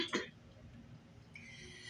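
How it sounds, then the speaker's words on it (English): A person coughs once, briefly and close, from dust blown out of an air conditioner indoors, followed by quiet room noise and a faint hum. "so that's why I'm coughing."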